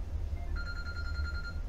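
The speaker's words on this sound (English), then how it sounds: "Sorry about that stupid phone call." A telephone rings in a room, one steady electronic ring tone held for about a second over a low background hum, fairly faint, with no talking.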